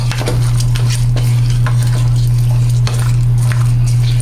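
Shrimp being stirred in coconut milk in a pan, a loud continuous bubbling simmer with scraping stirs and a few light utensil clinks, plus a steady low hum underneath.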